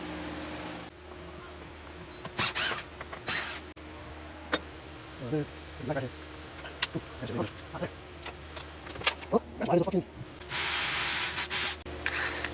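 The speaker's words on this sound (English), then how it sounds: "I'm drilling these rivets out that I put" A power drill whirs in short close bursts, drilling out rivets to remove an old air conditioner from a food truck, then runs longer near the end, with clanks of handling and someone talking between bursts.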